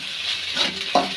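Egg frying in a pan for pasta, a short burst of steady sizzle with a quick spatula scrape near the end, close and moderately loud, no speech.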